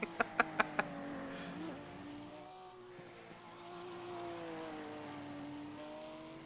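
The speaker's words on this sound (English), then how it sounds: "now we can actually hear the Porsche GT3 sounds from Paper Bag" Porsche GT3 race car engine in a sim racing endurance event on the Detroit Grand Prix circuit, a steady droning engine tone with shifting pitch, opening with a few sharp knocks.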